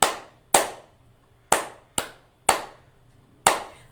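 Hands clap six sharp, separate strokes at uneven spacing, landing off the beat in a syncopated pattern. The claps are close and crisp, each with a short decay, and no voice is heard.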